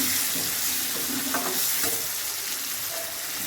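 Fish curry sautéing with turmeric in a pan for Bengali silver carp maacher jhol, a steady loud sizzle of frying with occasional stirring scrapes throughout.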